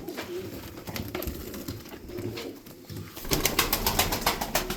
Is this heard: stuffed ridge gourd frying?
no